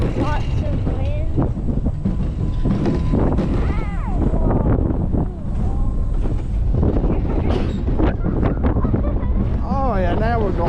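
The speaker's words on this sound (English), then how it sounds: "Lots of wind." Loud, constant wind buffeting the microphone on a fast mountain coaster ride at Skyland Ranch in Pigeon Forge, a roaring rush that never lets up, with riders talking and whooping over it.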